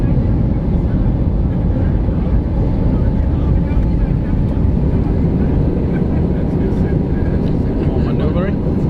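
Steady, loud roar inside the economy cabin of an SAS Airbus A320neo climbing out of Oslo after takeoff, a constant broadband engine and airflow drone with no pause.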